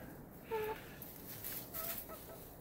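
Backyard hens in a coop on a cold blizzard night give a few soft, short clucks, faint and close, spaced out over a couple of seconds against quiet background noise.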